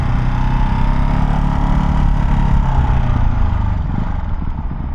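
A Ducati Hypermotard 698 single-cylinder motorcycle engine runs close and loud on its own, its revs wavering and hunting unevenly with no rider input, the pitch dipping slightly toward the end.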